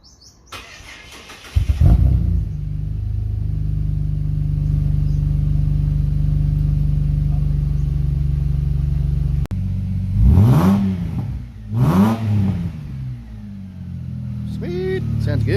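An old petrol Ford Falcon SX with the naturally aspirated Barra engine, fitted with a 3-inch XFORCE turbo diesel exhaust, cranks and starts, then idles with a deep rumble. Two sharp revs follow, close and loud, with voices talking.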